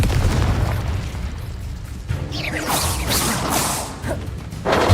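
Confringo blasting spell going off in the game Hogwarts Legacy, a heavy low boom followed by whooshing bursts and crackling blasts, loud and close, with another rumble at the end.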